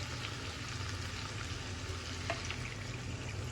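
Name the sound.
broth added to taro curry cooking in pan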